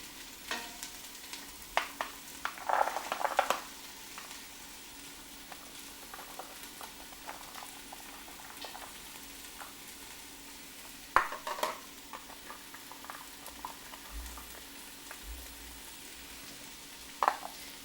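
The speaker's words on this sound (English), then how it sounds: "Give them a good stir to mix them in with the onion." Diced carrots and potatoes being stirred into browned onions in a pot for a salmon corn chowder, soft scraping and gentle sizzling with occasional sharper clinks of the spoon against the pot.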